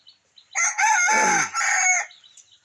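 A Fayoumi rooster on a poultry farm crows once, close and loud, a drawn-out two-part call lasting about a second and a half, with faint farm quiet around it.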